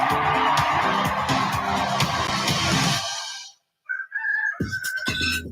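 A rooster crows in a radio ad for Roosters Brewing Co., after a loud stretch of dense music and voices and a short silence. The crow comes alone, clear and close.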